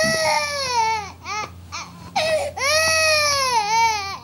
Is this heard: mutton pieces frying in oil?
no